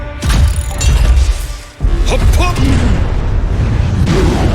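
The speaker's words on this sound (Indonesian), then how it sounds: "jurus ini melebarkan jarak serangan dengan menggunakan dentuman sonik" A sonic-boom martial arts attack from the Kaiju No. 8 anime lands as a loud crashing impact, with a sharp break and a second burst of roaring, whooshing energy afterward.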